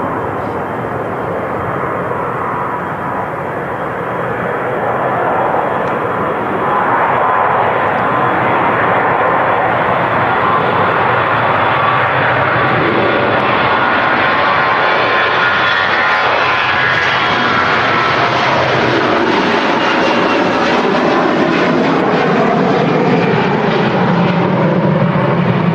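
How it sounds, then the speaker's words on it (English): A Jet2 airliner departing Manchester Airport on a flight to Lanzarote: a loud, continuous jet engine roar swells as it rolls and climbs, with the broad rumbling whine shifting in pitch while the aircraft passes by, plus a little background chatter. "She goes off to the 4-hour flight down to Lanzarote, Arrecife Airport"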